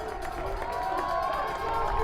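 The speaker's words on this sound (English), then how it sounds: "Crowd starting to get a little loud here" Crowd noise at an American college football game between St. Francis (Ill.) and Trinity International University, a steady, fairly loud stadium roar with scattered shouts building slightly over two seconds.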